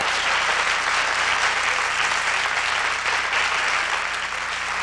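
Sustained audience applause at a live holiday music show, a steady dense clapping wash that stays loud and even for the whole stretch with no talk over it.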